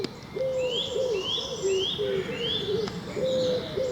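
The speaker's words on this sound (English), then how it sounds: "there's another garden warbler in the background" A garden warbler sings in the background beside a lane in April, giving repeated bright rising phrases, with lower cooing notes and steady outdoor ambience beneath.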